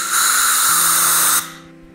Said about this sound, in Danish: man kan bruge trykluft til at få vanddrupperne ud